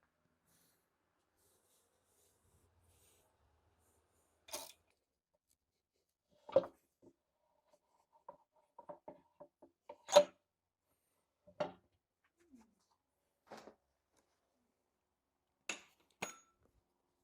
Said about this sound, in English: we're going to get this axle out next